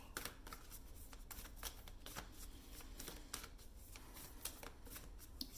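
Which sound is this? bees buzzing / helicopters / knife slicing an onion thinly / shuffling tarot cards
shuffling tarot cards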